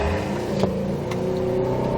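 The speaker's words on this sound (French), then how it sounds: "Allez, on accélère encore." A Subaru WRX STI accelerates on a driving-course track, its engine a steady, moderately loud hum and whir with a faint rising tone and no talk over it.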